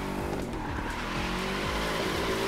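A Ford car drifting in the racing game The Crew 2, its engine droning steadily with tires squealing and skidding throughout, loud and continuous with no talk.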